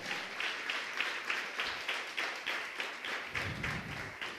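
Church congregation applauding, a rhythmic clapping that falls into a steady beat, moderately distant in a reverberant worship hall.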